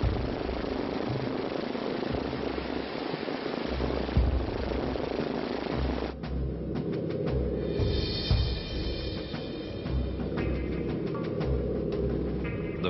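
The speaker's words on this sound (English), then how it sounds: "It's his first ride in an American bomber." Propeller engines of an American World War II bomber in flight, a steady, loud droning roar heard from inside the aircraft, continuous throughout with no speech.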